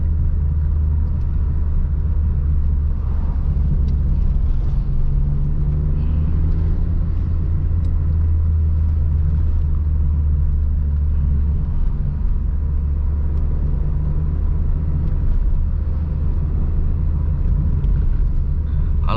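Car driving on a road at around 60–70 km/h while overtaking, heard as a steady loud low rumble of engine and road noise from inside the cabin, with slight swells in revs and no talk.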